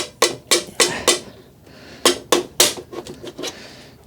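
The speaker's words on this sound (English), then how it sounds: "Did not expect to be hammering to open said power stationy thing" Sharp hammer blows land on the tight ABS polycarbonate lid of an Anker Solux C1000 power station during a teardown. Close, loud knocks come in two quick bursts of four and five strikes, with brief scraping between them.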